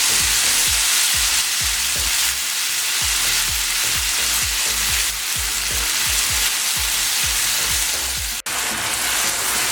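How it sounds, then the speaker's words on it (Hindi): Milk with cardamom powder simmering and reducing for walnut halwa, a steady close sizzle and bubble with repeated spoon scrapes and stirring strokes throughout. "इसमें इलायची पाउडर ऐड कर देंगे और अच्छे से मिक्स कर लेंगे और दूध को रिड्यूस कर लेंगे।"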